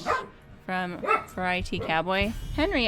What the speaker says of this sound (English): Pardon the dog woofing in the back.